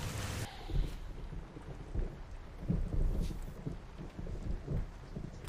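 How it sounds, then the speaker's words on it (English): Steady rain with low rumbling that rises and falls like distant thunder, a broad wash of noise throughout, from a scene in the film The Wolverine (2013). "There's rain coming."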